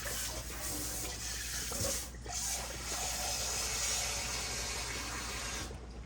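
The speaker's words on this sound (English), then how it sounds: "I'm getting some more water" Water runs steadily from a kitchen tap for several seconds, a continuous close hiss with a brief dip partway through, no talking.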